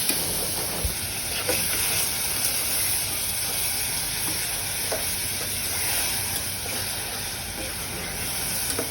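Masala paste of cardamom, cinnamon, bay leaf, ginger-garlic paste and onion paste fries in a pan for chicken koshano, giving a loud, continuous close sizzle with occasional soft scrapes of stirring.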